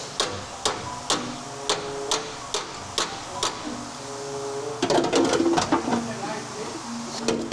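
Sharp metallic hammer strikes on a part of a damaged GMC Denali ring out one after another at a steady pace, then a quicker burst of clanking blows, fairly close.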